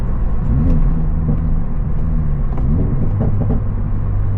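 A loud car engine rumbles and revs steadily close by, with a few faint crackles of exhaust pops over the drone.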